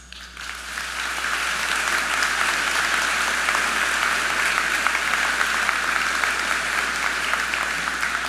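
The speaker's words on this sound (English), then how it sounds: "let's give them a heartfelt applause" Sustained applause for graduates at a spring university convocation ceremony, steady and dense from a large seated crowd after a brief quieter start, with no speech over it.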